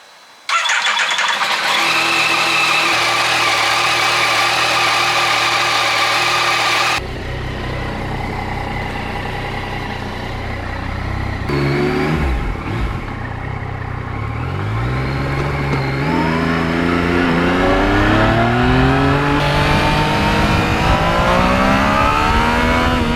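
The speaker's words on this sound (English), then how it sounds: "Time to get out on the open road." A Yamaha MT-09 motorcycle engine cranks and catches, settles into a loud close idle, then revs up and down repeatedly in rising and falling sweeps, with no speech.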